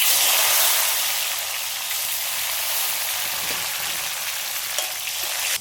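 Chopped tomato dropped into hot mustard oil with panch phoron, bay leaf and reddened dry chilli, a loud dense hiss of frying that stays steady and close throughout, with a faint clink near the end.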